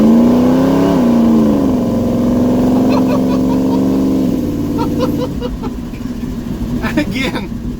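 A 1971 Chevy C10 truck fitted with a new torque converter accelerates, its engine droning loud and close with a rising then shifting pitch, easing later under passing talk.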